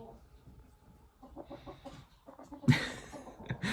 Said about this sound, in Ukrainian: Дивіться, кокає, прям як кочечка.